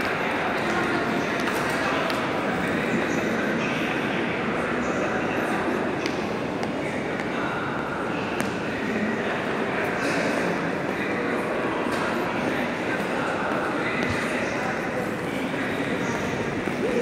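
Busy ambience inside Milan's train station: steady rumble of rail traffic, scattered clanks and pings, and voices chattering throughout.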